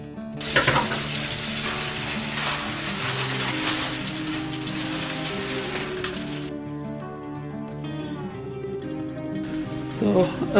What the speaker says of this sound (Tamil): எண்ணெயில் வந்து நாங்கள் இந்த கணவாய் போடுவோம்.